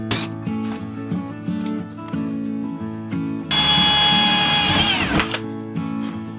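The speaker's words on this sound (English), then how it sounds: "drilled a real small pilot hole that'll just help get everything in there a lot easier" A power drill bores a small pilot hole during a school bus tiny house conversion, its motor whine rising to a loud, steady burst for about two seconds after a quieter stretch.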